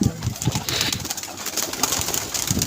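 Pigeons at a pigeon club give soft coos and calls against a steady hiss of outdoor background noise, with low murmurs throughout.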